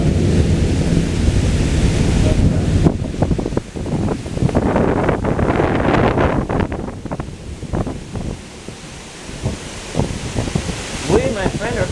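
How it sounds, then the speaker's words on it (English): A thunderstorm at an outdoor rained-out concert, with steady heavy rain and wind buffeting the microphone, low rumbles of thunder, and voices talking faintly underneath. "We and my friend are caught in a storm."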